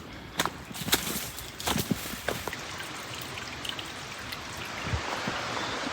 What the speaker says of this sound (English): Oh, this is music to my ears right now. Hearing the waterfall.